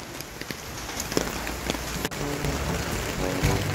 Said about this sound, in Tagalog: Grabe, ang lakas ng ulan, oh.